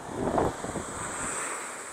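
Sea waves wash onto a sandy beach with tiny pebbles at a Lara resort, a steady broad surf hiss with a brief swell of breaking water early on and wind rumbling across the microphone throughout.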